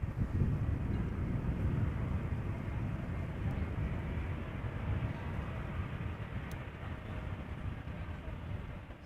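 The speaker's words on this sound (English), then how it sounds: "The daily Emirates A380 Super arriving from Dubai, flight" An Emirates Airbus A380 arriving from Dubai at Amsterdam Schiphol gives a low, steady rumbling roar that holds throughout with wind buffeting the microphone, heard from a distance.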